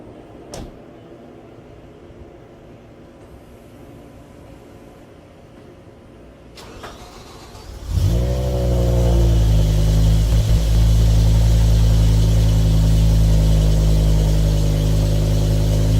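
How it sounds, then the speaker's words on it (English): A 2008 BMW E60 M5 engine cold-starts with a sharp cranking burst about eight seconds in, then settles into a loud, steady, high idle that continues to the end, with only faint background noise beforehand. "here's a cold start on my BMW 2008 BMW e60 M5."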